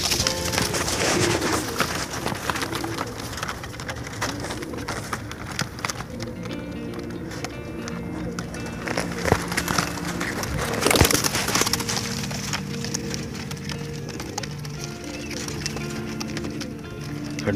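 Rampuri and Ferozpuri pigeons coo softly amid rustling, shuffling and wingy fluttering, with a busy mix of bird sounds close by.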